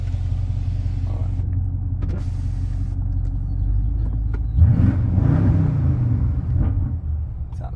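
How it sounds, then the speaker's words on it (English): A 2014 BMW F10 550i with a 4.4-liter V8 and aftermarket exhaust idles with a steady, deep rumble, then swells into a louder, throatier rev midway before settling back to a low burble, close and unaccompanied by talk. "I installed some beautiful exhaust on it, so it sounds like this."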